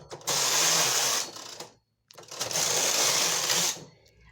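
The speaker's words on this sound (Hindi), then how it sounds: "फिर दोबारा से हम अपना लेस कैरेज चलाएंगे।" Lace carriage of a hand-operated knitting machine for children's caps sliding across the needle bed, two loud rattling mechanical passes of about a second and a half each, separated by a brief silent pause.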